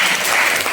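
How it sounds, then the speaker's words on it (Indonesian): A teachers' gathering in Kota Mojokerto breaks into applause, a short, even wash of many hands clapping close by with no talk over it. "Tepuk tangannya mana?"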